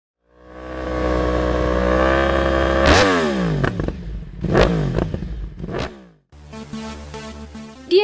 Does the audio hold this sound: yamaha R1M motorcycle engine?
yes